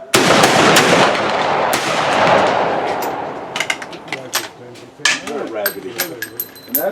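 Victorian-era rifles fired in a volley at a reenactment shoot in Bowling Green, Kentucky: a loud, close burst of blasts rolls off into echoing reports, followed by scattered clicks and mechanical handling noises as voices talk nearby.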